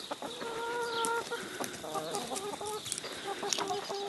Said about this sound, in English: So here is the hen house